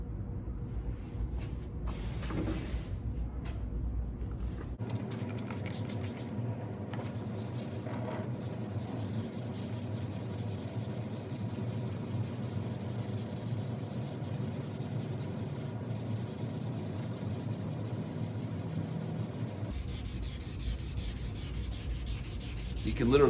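Continuous abrasive scrubbing of sandpaper on a plastic lens, steady and close, with a brief pause partway through and no talking.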